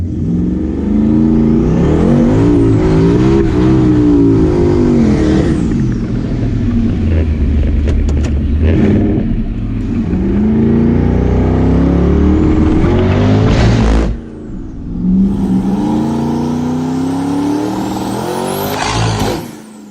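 A drag racing car makes its second test pass with a boost ramp, and the tires shake. The engine revs loud and continuously with rising, roaring pitch sweeps, cuts briefly around the midpoint, then roars up again before easing off.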